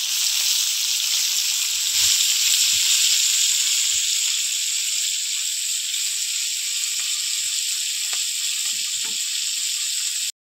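Kan magur fish frying in hot oil, a steady loud sizzle with sharp pops and crackles scattered throughout, close and continuous.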